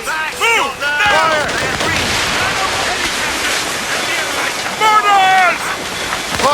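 Mortar fire in Assassin's Creed Rogue during a ship battle at sea: rumbling booms and splashing surf run under shouted orders and whistling projectiles, with sustained heavy noise throughout.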